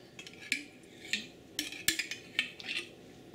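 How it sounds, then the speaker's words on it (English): Clinks and scrapes of a metal spoon scooping thick homemade yogurt from a container, eight or so sharp taps spread unevenly, close and fairly quiet. "I'm going to have to get a spoon to pull it out with"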